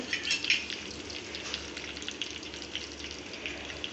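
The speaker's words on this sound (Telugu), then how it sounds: "అలాగే జీలకర్ర కూడా వేసుకుంటున్నాను మొత్తం ఫ్రై చేసుకొని దోరగా వేగిన తర్వాత" Cumin seeds sizzle and fry in a hot pan of oil, a steady close crackle with brief brighter spits near the start, no voices.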